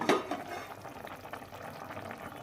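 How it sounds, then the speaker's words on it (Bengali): A pot of poppy seed (posto) bubbles on the stove with a soft, quiet simmer of small pops and liquid gurgles, heard close but faint throughout the short stretch. "পোস্তটা ফুটছে এদিকে"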